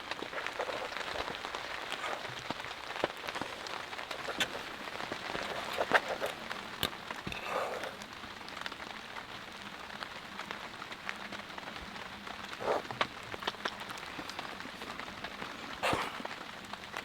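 Heavy rain pattering on a hot tent during a snowy camp, a dense steady patter with scattered louder drips and taps throughout, close and continuous with no talking.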